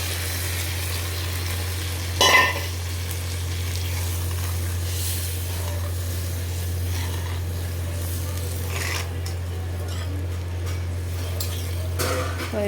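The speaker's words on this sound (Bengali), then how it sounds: "তো এখন আমি এটার মধ্যে জল দিয়ে দিচ্ছি, একটু আমি ঝোল ঝোল করবো।" Water poured into frying spices in a pan for a Bengali fish curry sets off a steady, close sizzle over a low constant hum, with a brief clatter of a utensil early on.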